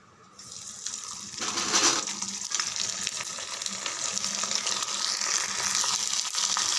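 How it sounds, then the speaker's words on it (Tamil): Kuzh vathal fries in hot oil with a continuous bright sizzle that swells after a quiet start and holds steady and close, with occasional crackles. "வத்தல் பொரிக்கிற அளவுக்கு எண்ணெய் விட்டுருக்கேன்"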